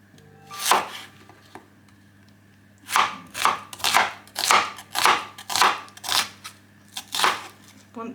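A knife slices onions on a cutting board: one sharp chop, a short pause, then a quick rhythmic run of about eight close, crisp strokes.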